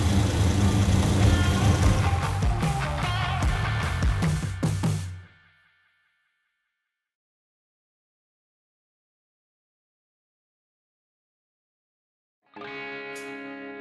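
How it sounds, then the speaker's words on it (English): A car engine rumbling through newly fitted mufflers, running loud and close for about five seconds, then cutting to silence before a brief burst of sound returns near the end. "Those mufflers sound good."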